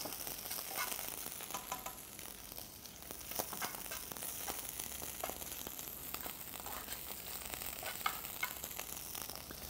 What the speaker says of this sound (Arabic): بعدين هنحط الكالامار عندي، تحميرة بسيطة